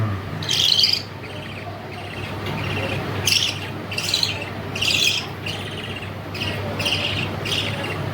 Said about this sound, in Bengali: এই যে দুটো পাখি